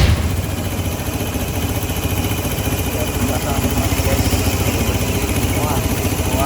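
A 2012 Vespa Matic LX150 scooter engine runs warm after a major service, a steady close idle with an even low throb, with someone talking over it.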